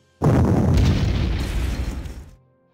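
In the Panzer Corps war game, a tank attack sets off a sudden loud boom that rolls on as a rumbling burst of explosions for about two seconds before cutting off, with no talking.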